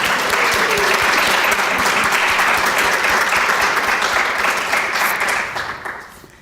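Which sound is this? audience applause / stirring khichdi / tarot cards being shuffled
audience applause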